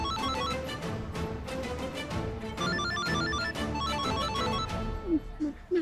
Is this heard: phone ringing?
yes